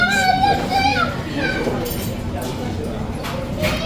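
Three young children play noisily at a hagwon, their high, excited shouts and chatter loud and close at first, then thinning into scattered bursts over a background din.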